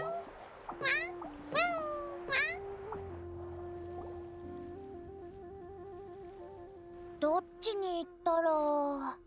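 Cat in Genshin Impact giving several short rising meows, some pitched and whiny, set against soft background game music and chimes, with a child-like character voice chiming in near the end.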